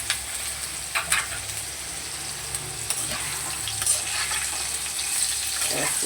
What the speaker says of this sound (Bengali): ডাটাগুলো একটু হালকা নেড়ে নেব